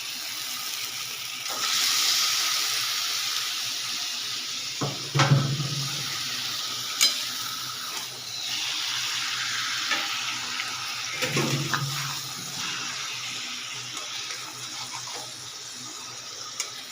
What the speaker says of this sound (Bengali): মশলা কষা হয়ে গেছে, এইবার দিয়ে দিচ্ছি মাংস।